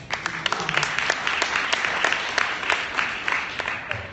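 Audience round of applause for a woman at a fitness industry talk: brisk, scattered clapping from a modest crowd, moderately near and steady throughout, with individual claps standing out and a brief voice near the end.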